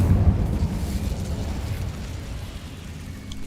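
An Incendio fire spell from the Hogwarts Legacy video game erupts in a heavy, rumbling fiery burst that roars loud and then slowly fades, with no talking.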